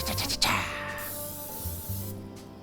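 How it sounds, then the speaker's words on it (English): A short hissing burst of fat-free cooking spray before cooking steak, close and fairly loud, then fading into a faint hiss. "time to cook the steak. Same thing, fat-free cooking spray."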